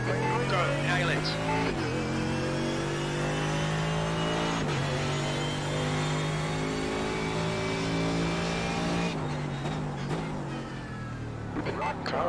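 Mercedes AMG GT3 race car accelerating hard at Spa in iRacing, a loud, close engine roar that climbs in pitch through the gears with brief dips at each upshift, continuous throughout.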